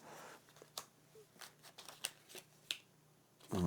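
Cards being shuffled and handled for a tarot-style reading, quiet close-up flicks and snaps in irregular bursts, with a louder rustle at the end.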